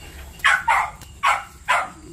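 A guard dog at a rural vegetable garden barks four sharp, loud times close by, in two quick pairs with a short pause between them.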